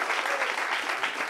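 An audience applauds steadily, a dense even wash of many hands clapping at once.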